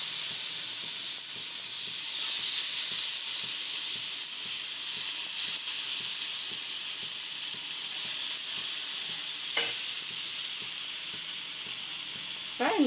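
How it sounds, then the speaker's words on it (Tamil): Prawns sizzle in a thin layer of oil in a pan for prawn tikka, a steady bright frying hiss lasting throughout, with a couple of faint utensil scrapes and no speech. "இப்போ நம்ம ஒவ்வொரு பிரானை இதில் வச்சிடலாம்"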